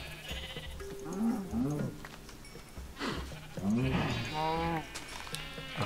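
Farm animals in the Minecraft video game bleat and moo in several short calls at close range, along with game sounds. Speech is heard in places.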